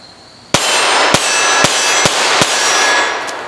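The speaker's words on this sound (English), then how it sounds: "I'm going to shoot the Ruger ammo out of it, show you how easy it handles the recoil on this thing." Browning .380 pistol firing Ruger ARX ammunition, five sharp, loud shots in quick succession, each ringing briefly into the next.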